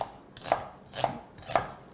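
A knife chops through food on a cutting board while cooking, three crisp evenly spaced cuts about half a second apart, close and fairly quiet, with no talking.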